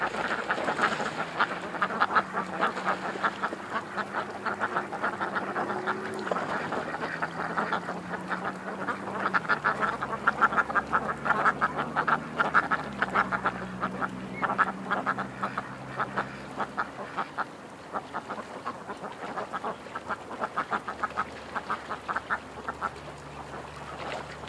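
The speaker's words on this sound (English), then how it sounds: "Just look at these ducks. They're having fun." Ducks quacking busily outdoors near a farm pen, a steady chorus of overlapping quacks running throughout, fairly close and loud, with no talk.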